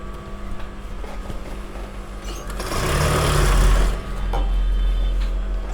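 Sewing machine stitching the lining of a lehenga, a close steady motor hum that swells into a louder burst of fast stitching for about a second before settling back.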